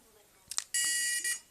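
A dog training collar switched to beep mode gives a few short clicks followed by a loud, sustained high electronic beep tone with a brief second burst, close by and alone.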